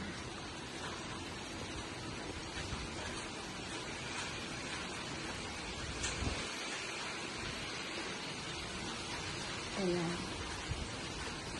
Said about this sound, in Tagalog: Ngayon nag-start na siyang umulan po dito, no?